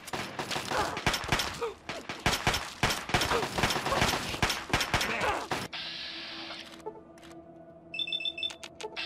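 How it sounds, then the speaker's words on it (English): Rapid gunfire in the Fallout 3 video game, with dense bursts of shots and impacts for about six seconds, then quieter game beeps and tones. "Oh, who's still shooting me?"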